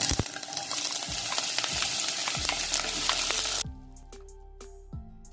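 Finely chopped large onion hits hot oil for an evening pola snack, giving a loud, dense sizzle with spatula scrapes that cuts off abruptly after about three and a half seconds, leaving quieter clicks and stirring knocks.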